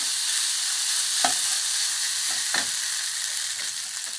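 Taro fried rice with pepper is stir-fried in a wok, a loud continuous sizzle with a few distinct scrapes and clanks of the spatula, close by and without talk.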